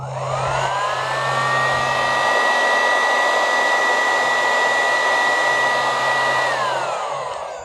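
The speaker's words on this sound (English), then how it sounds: "and we'll heat shrink it" A heat gun runs steadily on heat shrink tubing being shrunk over a fishing keel rig, a loud continuous blowing whine that spins up, holds and winds down, with no talking.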